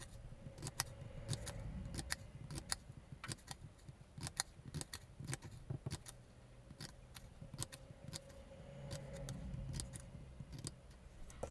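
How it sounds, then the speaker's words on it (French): Scissors snip paper tabs up to a fold for a scrapbooking project, quick faint clicking cuts arriving in irregular bursts over a quiet background. "Je coupe des languettes jusqu'au pli."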